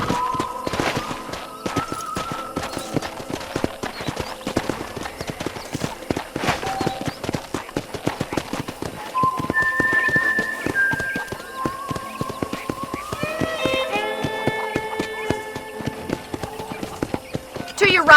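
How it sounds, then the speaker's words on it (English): Horse hooves gallop in a steady clip-clop rhythm in the Western video game Red Dead Redemption, with sustained melodic tones and game sounds layered throughout. "let's see if you can still ride a horse."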